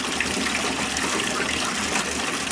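Water gushes steadily from a roof downspout through a diverter valve into a 55-gallon drum rain barrel, a continuous close, loud splashing rush with no talk.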